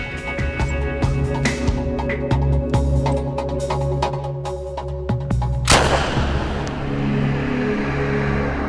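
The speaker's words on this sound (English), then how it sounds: "This will be a 45 cartridge fired through the Tommy gun." A Tommy gun fires .45 cartridges in a rapid string of loud, sharp bangs that echo, followed by one heavier blast and a lingering rumble.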